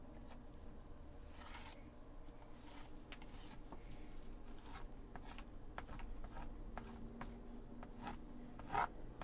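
Wet acrylic paint being scraped across a canvas while painting grasses under a glowing pink tree, heard as faint, repeated short rasping strokes over a steady low background hum.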